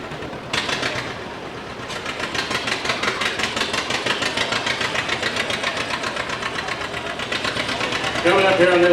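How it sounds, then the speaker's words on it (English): Case scale steam engine running at a vintage farm show with tractor pulls, giving off a rapid, regular mechanical chuffing and knocking that holds steady and slightly builds, close and fairly loud, with crowd noise around it. "Coming up here on this case scale steam engine is it Roland Brothers."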